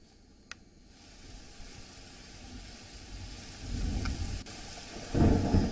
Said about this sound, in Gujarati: લીલાપુર ગામ તેમજ આસપાસના વિસ્તારોમાં પણ ધોધમાર વરસાદ શરૂ થઈ ગયો છે.